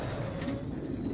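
White, silver and red meat pigeons coo at a pigeon farm, a close, low, continuous rolling coo lasting about a second, loud and without talk.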